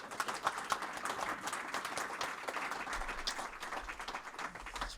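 Applause from an audience, a dense patter of clapping that holds steady for several seconds and stays fairly faint, as if heard from a distance.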